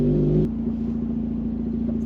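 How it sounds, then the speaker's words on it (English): Mazda RX-8 (SE3P) engine heard from inside the cabin with little sound deadening, a loud steady drone with a brief higher rev at the start that settles into a constant even hum. "due to minimal sound deadening, it's very easy to hear the engine"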